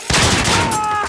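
A deployed sentry gun in Call of Duty: Modern Warfare rattles off a loud, close burst of rapid automatic fire lasting about a second.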